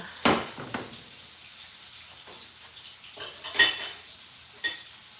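Banana blossom frying over medium heat in a cast iron skillet, a few sharp utensil scrapes and clinks against the iron over a low steady sizzle, close and moderately loud.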